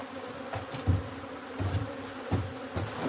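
A swarm of wild honey bees buzzes as it is moved into a new hive. The hum is dense and steady, with a few soft low bumps from handling, and no voices.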